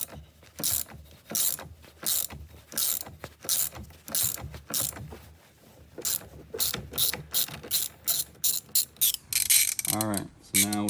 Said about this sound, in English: All right, so now we have that center bolt removed right here.